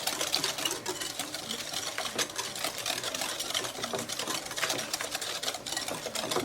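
A whisk beats egg yolks together in a bowl for pumpkin pie, a rapid continuous clatter of metal against the bowl, close and steady throughout.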